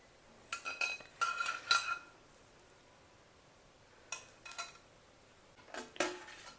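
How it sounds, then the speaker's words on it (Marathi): Chopped vegetables, including carrot, are tipped into a bowl of appe batter with a spoon, making soft clinks and scrapes against the bowl in three short, quiet clusters separated by pauses. "ह्या पिठामध्ये आता ह्या भाज्या आपल्या घालून घेऊया"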